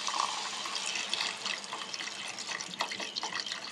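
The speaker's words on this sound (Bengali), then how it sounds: "এরপর এর মধ্যে আমরা দিয়ে দেব আগে থেকে গরম করে রাখা জল" Pre-heated water is poured into a cooked-down masala for chicken tikka masala, a continuous close, splashing gush of liquid that holds steady throughout.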